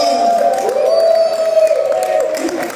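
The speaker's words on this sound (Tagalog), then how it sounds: "Palakpak naman kayo." Audience at a charity bully dog show clapping and cheering, a steady crowd din with applause and a few whoops, continuous and fairly loud with a voice rising over it.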